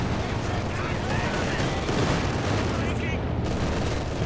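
Dense battlefield gunfire and explosions from the strategy game Company of Heroes 2 rumble continuously, a machine gun chattering among booms, with a commentator talking over it.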